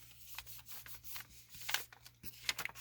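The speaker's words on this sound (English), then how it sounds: "while I press and rub, transferring that ink onto this layer" Scratch paper pressed and rubbed over cardstock to transfer ink, giving faint, close, uneven scuffing and brushing strokes in short repeated bursts against a low steady hum.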